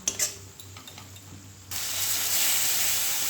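Chopped tomato hits hot oil with spices in a pan and erupts into a steady, loud sizzle after a quieter start with faint clinks.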